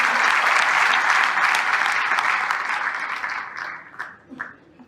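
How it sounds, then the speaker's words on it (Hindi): A roomful of people at an RCM business meeting in Noida claps loudly in a sustained wash of applause that gradually thins out, leaving a few scattered claps before fading. "और सभी गुरुओं के लिए भी एक बार तालियां।"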